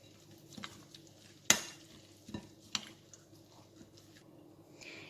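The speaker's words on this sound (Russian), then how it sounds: "И теперь хорошенько все перемешиваю ложечкой." A spoon stirring a zucchini mixture with egg in a bowl, a few scattered scrapes and clinks with one sharp knock, quiet overall with no talking.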